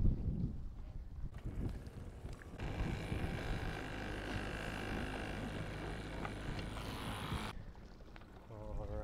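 Outboard motor boat running on open water, a steady droning engine with wind buffeting the microphone, loud and continuous for several seconds before dropping back to quieter idling and water noise.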